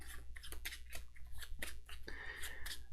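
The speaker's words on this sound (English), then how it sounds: "Let's pile shuffle real quick just to make sure everything's getting spread around." Board game cards from Undaunted Normandy are pile-shuffled onto a table, giving a string of brief papery slaps and flicks at an irregular pace, close and fairly crisp.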